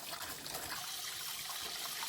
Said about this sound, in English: And as you can see, water starts coming out.